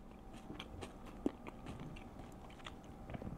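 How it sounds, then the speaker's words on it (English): Chewing a crunchy Thai napa cabbage slaw with radishes and sugar snap peas, close, quiet bites and crunches repeating irregularly with no talk. "you have this wonderful crunch of cabbage, as well as radishes and sugar snap peas"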